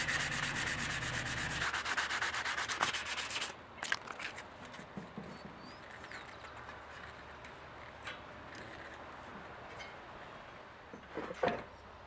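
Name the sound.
sanding hardened plastic putty on metal cabinet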